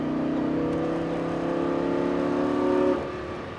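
A Lamborghini Gallardo Superleggera on a track sends out a loud, steady engine note that rises in pitch under acceleration for about three seconds, then abruptly drops off as the throttle lifts.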